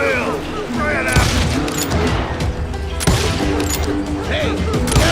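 Deputies firing guns in the Western shooter Call of Juarez: Gunslinger, loud overlapping gunshots and booms with shouting voices mixed in.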